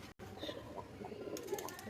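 Soft, faint cooing from pigeons kept as a breeding pair with clipped wings, a few low murmuring calls over quiet background noise in under two seconds.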